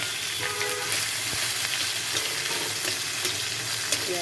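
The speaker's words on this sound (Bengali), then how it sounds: "তেলটা গরম হয়ে গেছে, আমি এর মধ্যে গোটা জিরে ফোড়ন দেব, দিয়ে পেঁয়াজ আর রসুনটা দিয়ে দেবো" Whole cumin seeds, onion and garlic frying in hot oil, a loud dense sizzle close up that holds steady throughout with faint crackles and no talking.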